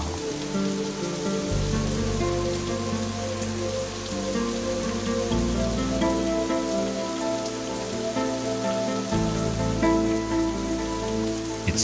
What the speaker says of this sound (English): The rain is heavier now.